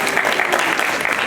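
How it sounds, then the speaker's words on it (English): A brief, dense round of applause from an event audience honoring a morning TV host, many hands clapping at once, steady and fairly loud with no gaps. "Give her a round of applause."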